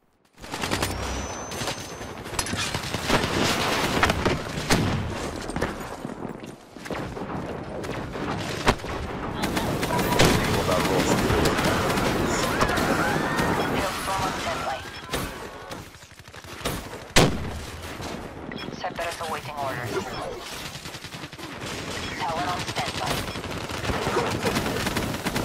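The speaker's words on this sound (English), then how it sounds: "in Black Ops 3, Neat shows us how to use the Purifier" The Purifier weapon firing in Black Ops 3, a long, loud, sustained stream of fire with brief pauses between bursts and occasional heavy thumps, no talking.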